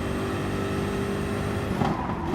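A race car in GT Sport on the Nürburgring Nordschleife holds a loud, sustained high-revving engine drone at near full throttle, tone steady before a brief shift and dip near the end.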